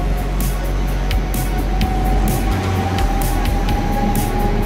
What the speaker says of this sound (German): Da kommt gleich noch der ICE T hinterher,